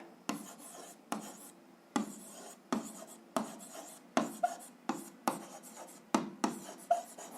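A pen writes out an algebra solution on paper, a quiet, close series of short scratchy strokes in irregular bursts with brief pauses between, no talking.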